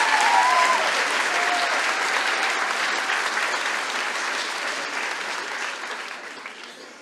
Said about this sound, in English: another group of people that need a round of applause, and that's your parents